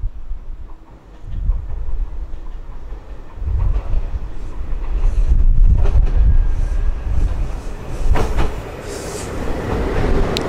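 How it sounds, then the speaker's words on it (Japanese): A JR Shikoku 2700 series limited express train on the Kōtoku Line runs along an elevated track near Takamatsu, giving a steady low rumble with rhythmic wheel clatter and swells of louder running noise. "この特急列車渦潮14号には JR 四国の最新型2700系が使われているのです。"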